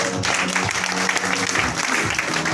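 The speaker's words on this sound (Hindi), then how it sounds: "एक बार जोरदार ताली बोलना चाहिए" An audience at an income-plan seminar breaking into loud, sustained applause, thick and steady clapping close by with faint crowd murmur underneath.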